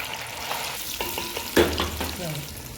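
Chopped onions, about a cup, frying in a pot for bhindi gosht and being stirred toward a light brown, a steady close sizzle broken by scraping stir strokes and one sharp clank partway through.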